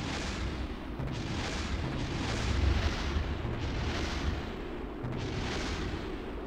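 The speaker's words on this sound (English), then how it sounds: "Oh crap, something exploded." A rocket part explodes in Kerbal Space Program on PS5: a loud, continuous broadband roar with slow repeated booming swells, heard alone without talk.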